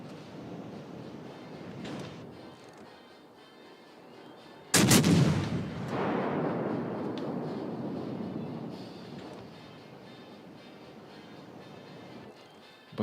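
The battleship Alaska fires a heavy shell salvo in a naval warship game, one sudden booming blast that rolls and fades over several seconds amid low ambient background noise.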